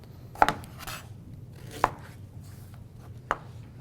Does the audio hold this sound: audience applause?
no